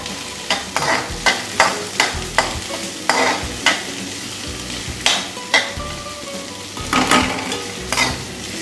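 Capsicum, carrot, cabbage and sliced green chillies stir-frying in hot oil, a steady sizzle broken by repeated scraping stir strokes at a regular rhythm, close and fairly loud with no talk.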